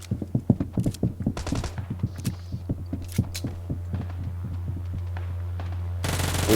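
Rapid automatic gunfire in the mobile battle royale game PUBG New State, heard as loud, close, rhythmic bursts of shots that thin out into a steady mechanical hum before a sudden noisy burst at the end.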